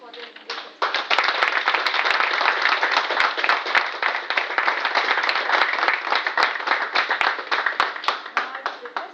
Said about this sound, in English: please give them a huge round of applause for their leadership